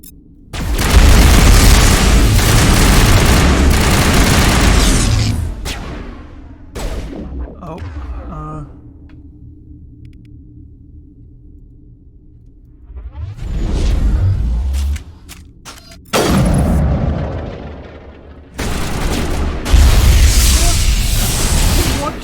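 A loud Mass Effect firefight has heavy booms, explosions and bursts of gunfire that come in long, dense waves. A quieter lull in the middle carries faint voices before the blasts start again.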